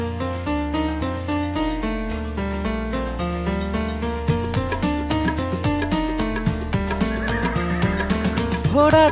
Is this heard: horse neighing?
yes